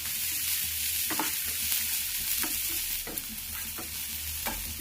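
Thinly sliced onions fry in a pan with a constant loud sizzle, while a spatula scrapes through them every second or so in short, soft strokes.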